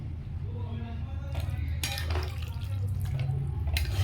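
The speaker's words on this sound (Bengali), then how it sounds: "এরপরে এতে একটু গরম জল দিয়ে দেবো।" Hot water is poured into a pan of spiced sattu and fried potatoes, a brief splashing and hissing rush over a low kitchen rumble, with a faint clink of utensils nearby.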